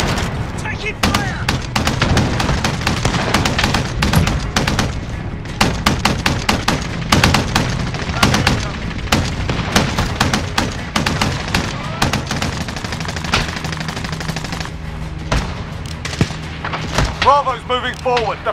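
Sustained video-game gunfire in a shooter, dense bursts of rapid shots and occasional heavier booms running nearly nonstop and loud, with radio-style voices talking underneath.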